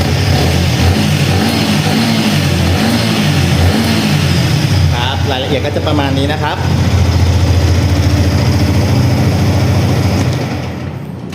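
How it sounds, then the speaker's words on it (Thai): A 2019 Yamaha XSR 155 motorcycle engine idles and revs steadily up close, rising in pitch midway, while someone speaks briefly over it. "อ่าเดี๋ยวลองฟังเสียงเครื่อง เดี๋ยวเร่งเครื่องให้ฟังนะครับ"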